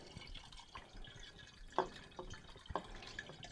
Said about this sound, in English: I'm gonna top it off with some wine I made months ago